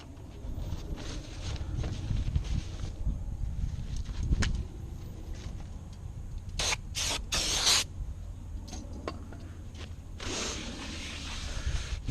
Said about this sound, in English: I'm going to wipe it down with brake clean and make sure it's clean before I put it on.